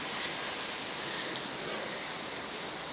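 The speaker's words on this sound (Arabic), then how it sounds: "علشان اوريكم المطر والشتاء واسكندريه في الشتاء شكلها ايه" Heavy winter rain falls in Alexandria, a steady dense hiss of drops on surfaces, even and constant throughout with no thunder evident and no voices.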